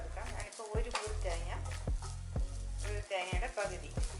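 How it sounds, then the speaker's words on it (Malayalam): Coconut roasts in a hot pan with a low sizzle, while a spoon scrapes and stirs in a steady, repeated rhythm of short strokes close by. "ഇനി നമുക്ക് ഈ തേങ്ങ ഒന്ന് വറുത്തെടുക്കാം"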